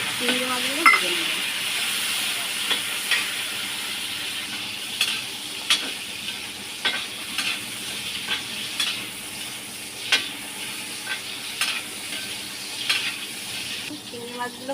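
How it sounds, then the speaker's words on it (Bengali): Prawns frying in a pan give a continuous close sizzle, broken by regular clicks and scrapes of a utensil stirring them roughly every second. "চিংড়ি মাছগুলো ভেজে নেব"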